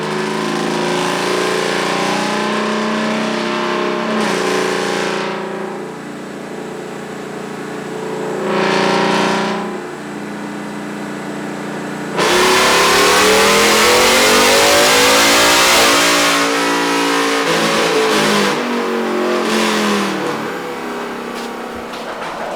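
A supercharged 2021 Ford F-150 engine roars through a dyno pull on 93-octane fuel, revving loud and sustained, climbing in pitch, easing briefly, then surging again even harder toward redline, with no talk over it.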